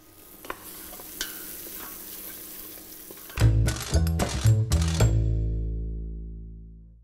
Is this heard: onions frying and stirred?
yes